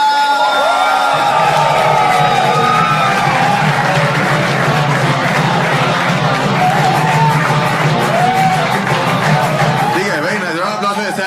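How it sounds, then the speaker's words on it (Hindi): A live comedy-show audience cheers, whoops and shouts as two comedians are welcomed onto the stage, a loud, dense crowd roar that holds steady and tapers slightly at the end. "अगर आप लोग जोर से तालियां बजाओ"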